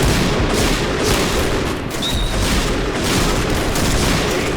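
A rapidly firing gun in the shooter game Point Blank unloads a dense, continuous barrage of loud overlapping shots that fill the whole stretch without a pause.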